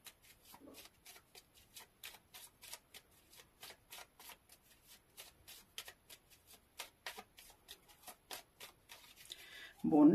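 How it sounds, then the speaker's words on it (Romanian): A deck of Russian playing cards is shuffled in a steady run of soft, quick riffling slaps, close and quiet, with a louder handling sound at the very end. "haideți să începem cu cărțile rusești. Le batem și le menim, da?"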